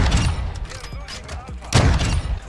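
VICTUS XMR sniper rifle shots ring out in a shooter game, a couple of sharp reports with bolt-action mechanical clicks between them over background game ambience.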